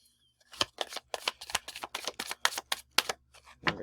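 A deck of stiff tarot cards is shuffled up close in a quick riffle of sharp, crisp clicks and snaps lasting a few seconds, loud against an otherwise quiet room.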